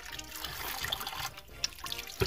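A small mountain stream trickles and dribbles steadily close by, with a few brighter splashes over the constant flow.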